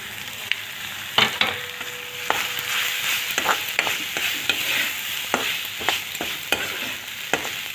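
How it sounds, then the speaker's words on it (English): Curry leaves and grated coconut sizzling in hot oil in a pan for coconut rice, stirred with a spoon that scrapes and clacks against the metal at irregular intervals, close and steady. "And now I add my curry leaves. I add whole lot of coconut because this is the coconut rice."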